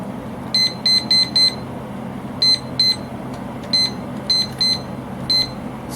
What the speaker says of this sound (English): There's my little kitchen timer.